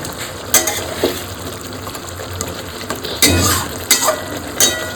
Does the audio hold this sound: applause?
no